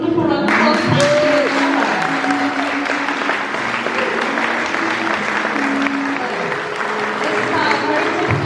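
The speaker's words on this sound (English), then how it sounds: "So, give her a wonderful round of applause." Sustained audience applause at a 1940s-style vintage catwalk fashion show, a steady dense wash of clapping from a crowd that carries on for several seconds with a few voices mixed in.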